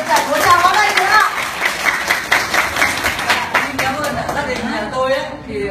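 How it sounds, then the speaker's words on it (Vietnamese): Applause from an audience at a Vietnamese social work association ceremony welcoming the Diện Chẩn group, dense clapping throughout with some crowd chatter and laughter mixed in. "Một tràng pháo tay nữa ạ."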